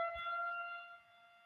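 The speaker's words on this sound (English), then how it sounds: "Oh, listen to the siren." A siren blares outside, a steady multi-tone wail held at moderate volume before fading slightly, with no talk over it.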